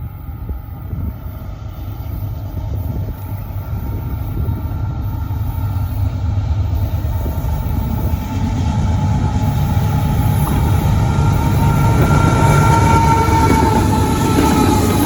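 A CSX freight train, Q158, rolling past with a deep continuous rumble and rattle that grows gradually louder as it nears, with no voices.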